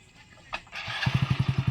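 Motorcycle engine cranks and starts, settling into a loud, close, rhythmic idle that chugs steadily, with a brief clunk just before ignition.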